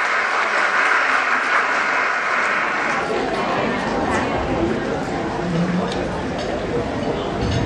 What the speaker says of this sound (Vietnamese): Xin tất cả chúng ta hãy dành một tràng vỗ tay thật lớn và thật đồng nhiệt để chào đón sự kiện đặc